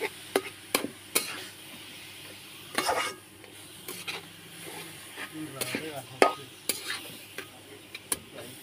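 Carrot halwa is stirred and sautéed in a pan, with a spoon scraping and knocking against the metal in irregular strokes over a soft sizzle, close and fairly quiet.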